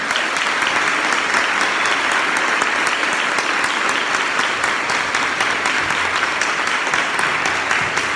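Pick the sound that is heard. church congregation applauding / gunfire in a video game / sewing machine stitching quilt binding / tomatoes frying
church congregation applauding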